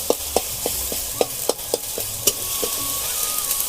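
A spatula stirs leafy greens frying in a pan, scraping in a quick, even rhythm of sharp strokes over a soft, steady sizzle, close and moderately loud.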